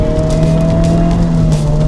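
A 2025 Honda Civic Type-R drives on a wet road on Michelin Sport Cup 2 tires, with a loud, steady engine drone and a strong low hum running throughout, close up and with no talk.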